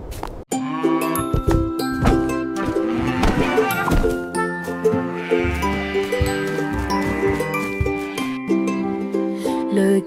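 Sheep bleat loudly and repeatedly over a cheerful children's nursery-rhyme song, with bells tinkling along in the mix.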